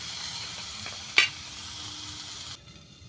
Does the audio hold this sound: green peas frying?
yes